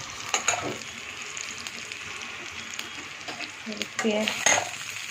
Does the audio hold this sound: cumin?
yes